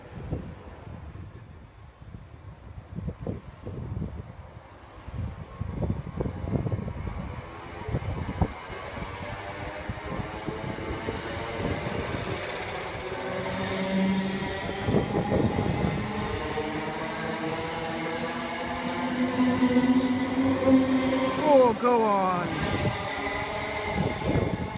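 A British Rail Class 321 electric passenger train, unit 321341, pulls away from Southend Airport station with a rising electric motor whine and rumbling wheels, wind buffeting the microphone throughout.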